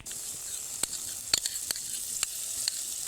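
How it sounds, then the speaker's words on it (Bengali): Spice paste sizzling steadily in a dry pan for chana paneer, with a spoon scraping and stirring it in a few distinct clicks over the constant hiss. "মশলাটা এক মিনিট মতো নেড়ে নিয়েছি এরপরে দিয়ে দেবো কাজু আর চালমগজ বাটা"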